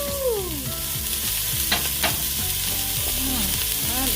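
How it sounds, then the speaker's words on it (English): Chopped onions and green onions sizzle steadily in a hot pot for a leftover chicken gumbo, a loud continuous fry with a couple of sharp stirring scrapes, while background music plays. "We're gonna start sauteing our onions and green onions"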